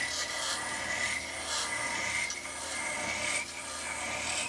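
A skew chisel rubs and scrapes against spinning wood on a lathe running around 2300 rpm, a steady close rasping hiss with rhythmic surges as the cut moves along.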